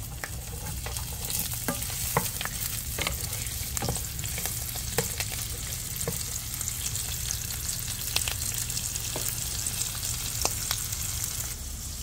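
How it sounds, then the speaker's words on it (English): Curry leaves toasting and frying in a pan, a continuous close sizzle with frequent crackling pops and light stirring scrapes, steady and alone without voices. "I have some curry leaves that I'll be putting in there as well. I want that to toast up first"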